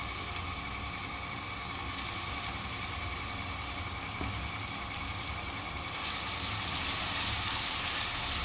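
Onions fry in a kadai-style wok for a home-cooked vegetable dish, giving a steady, dense sizzling hiss over a faint hum that swells louder near the end.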